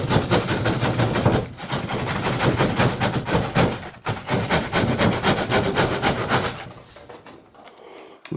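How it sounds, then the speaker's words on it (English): An old hand saw trims the edge of a sheet of plasterboard, a close, loud rasping of quick rhythmic strokes that stops near the end. "If you do need to trim just a little bit off the edge, then you can use an old saw."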